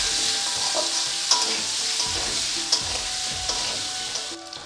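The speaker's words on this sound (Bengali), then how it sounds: "আলুগুলোকে ভালো করে ভেজে নেব।" Potatoes seasoned with salt and turmeric fry in a pan, making a loud, continuous sizzle close by, broken every second or so by scraping spatula strokes as they are turned.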